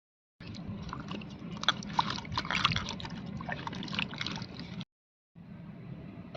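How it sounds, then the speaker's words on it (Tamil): Close-up sloshing and splashing as peeled onions and vegetables are rinsed in water, continuous, then a short pause before more swishing. "நீ தண்ணியில் போட்டு அலசிக்கலாம்"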